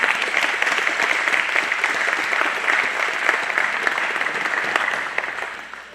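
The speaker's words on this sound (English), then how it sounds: "I just thought we should give them a round of applause for getting this all set up." A crowd at a wedding reception claps steadily and loudly for several seconds, the applause fading out toward the end.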